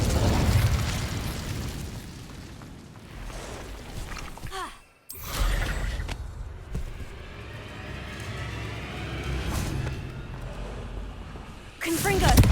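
Incendio fire spell cast in Hogwarts Legacy, heard as a dense roaring burst of flame with rumbling booms, a short cutoff near the middle, then more crackling blasts and whooshes continuing loudly to the end.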